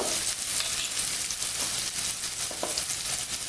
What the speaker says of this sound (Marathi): कांदा टमॅटो तेलामध्ये चांगले फ्राय करून घेतलेले आहेत आता यामध्ये मी टाकणार आहे थोडासा हिंग